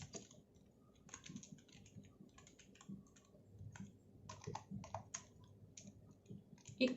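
Computer keyboard keys tapped while a QBasic program is typed, irregular bursts of light clicks with short pauses, close and moderately quiet, no voice present.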